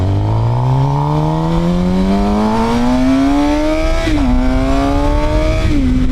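A Suzuki GSX-R 750 motorcycle fitted with a 16-tooth sprocket accelerates hard at full throttle, its loud engine rising steadily in pitch, dipping briefly at two gear shifts, then climbing again; no talk.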